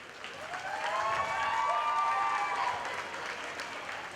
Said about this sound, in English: I want all the youth right now to give a big cheer for all your parents and 4-H and FFA advisors